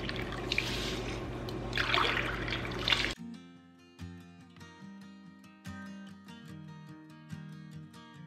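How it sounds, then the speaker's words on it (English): Water pours into a pot of rice for about three seconds, a loud, dense rush that stops abruptly, followed by light plucked music. "So I have 4 cups, so I'm gonna have to add 8 cups of water."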